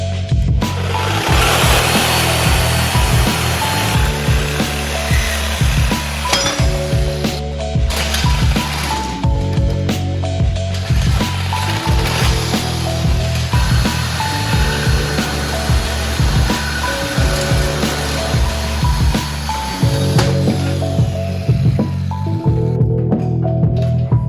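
A power saw grinds continuously through a pocket bike's metal frame support beams with a harsh rasping whine and shifting pitch, up close and loud.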